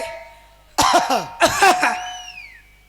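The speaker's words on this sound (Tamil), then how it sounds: "என்ன என்ன இருமுறிய?" Two sharp coughing bursts, close and loud, followed by a fading whistle-like tone.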